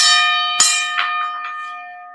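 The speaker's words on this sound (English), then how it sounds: "Let me hit y'all with the Kamal bell." A livestream host strikes a hand bell, which rings out in a bright metallic tone and is struck again a few times as the sustained ring slowly decays, close and without talk.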